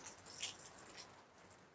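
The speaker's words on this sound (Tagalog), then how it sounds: "malakas ang ulan, no?" Steady, dense patter of heavy rain, a continuous hiss with scattered drops close by, fairly quiet overall.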